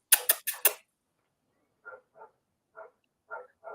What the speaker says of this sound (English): There are dogs in the background.